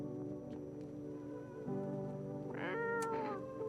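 A cat meows in a video game, starting around the middle and rising into a clearer, higher cry near the end, heard over steady game music.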